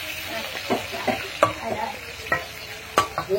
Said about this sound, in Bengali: তো এই যে আমি চিংড়ি মাছটা ভাজি করছি।